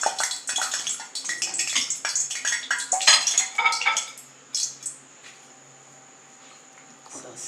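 Metal spoon scraping and clinking against a pot while stirring food, in a home kitchen cooking Jamaican fish with Irish potatoes for mash; busy clatter for about four seconds, then quieter with a faint hum.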